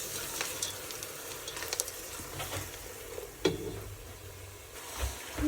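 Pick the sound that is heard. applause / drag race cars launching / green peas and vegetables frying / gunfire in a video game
green peas and vegetables frying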